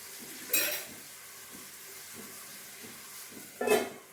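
Prawns frying in a pan are stirred with a utensil: two sharp scraping strokes stand out over a quiet, steady sizzle, one early and one near the end.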